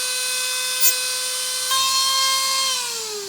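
A Dremel rotary tool squares up the end of a crossbow arrow, a high, steady whine that holds near and loud, shifting pitch midway and dropping slightly as the tool slows toward the end.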